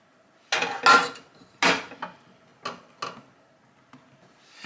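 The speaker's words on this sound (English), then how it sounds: "I'm gonna add the egg here to this. And just mix it up." A utensil mixes egg into a liquid in a bowl, making about half a dozen sharp, irregular clinks and taps against the bowl, close and fairly loud, with quiet gaps between them.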